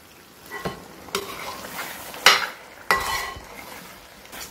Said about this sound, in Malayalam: ഇതിലേക്ക് ഞാൻ ഇനി 1 കപ്പോളം നല്ല തിളച്ച വെള്ളം ഒഴിച്ചു കൊടുക്കണം.